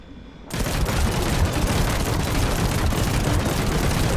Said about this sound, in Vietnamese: Súng này bắn kiểu gì cũng trúng hết trơn các bạn.